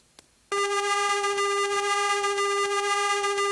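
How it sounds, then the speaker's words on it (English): Synthesized sine, square and sawtooth waves sound together as one buzzy, steady electronic drone. It starts abruptly after a brief click and near-silence, then holds loud and unchanging to the end. "So here I've got a sine wave and a square wave and a sawtooth wave"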